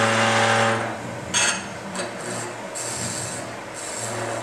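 A woodturning gouge cuts a spinning wooden spindle on a lathe with its bevel rubbing, giving a close, continuous rasping scrape that rises and falls in short passes over a low lathe hum.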